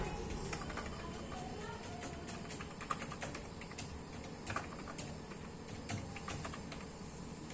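Keys clatter in a steady stream of light clicks as someone types on a computer keyboard while entering worker attendance data into an Excel salary sheet; faint and close, with no talk.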